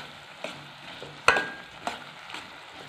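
Aravana payasam with roasted coconut is stirred in a pan, a soft steady sizzle with a few sharp scraping clicks of the spoon against the metal, close and alone.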